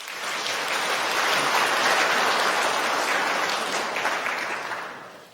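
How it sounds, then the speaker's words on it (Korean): Congregation applause during a Sunday church service welcoming a guest: a full, steady wash of clapping swells, holds for several seconds, then fades out, with no talking over it. "여러분들 환영의 박수 부탁드립니다"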